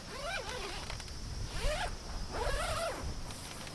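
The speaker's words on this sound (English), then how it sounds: "Now we can unzip the front." The front of a Drifta Wild Land rooftop tent is unzipped in three quick separate zipper pulls, each a raspy rising zip, close and clear against faint outdoor background.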